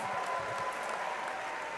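Audience applause at a 2021 new student convocation, a steady wash of clapping throughout, fairly quiet and distant in a large hall.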